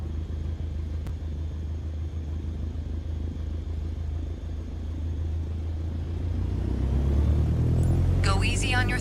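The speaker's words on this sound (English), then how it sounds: "Now, gently increase throttle to get the aircraft moving." An aircraft engine in Microsoft Flight Simulator 2020 throttles up for taxiing, a steady low rumble that swells louder toward the end, where a voice speaks over it.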